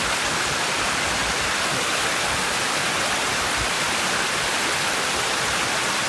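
A creek in an East Bay park runs full and strong after winter storms, giving a steady, loud rushing wash of water that fills the whole stretch without a break and with no voices.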